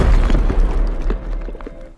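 A coconut shell dropped by a troll in the film Troll (2022) shatters: a loud crashing burst with clattering debris breaking apart, fading over two seconds with scattered sharp bits.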